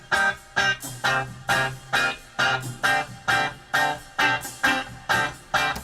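Guitar plays the pre-chorus part of a solo as a run of evenly spaced, clipped chord stabs in a regular rhythm, with no voices.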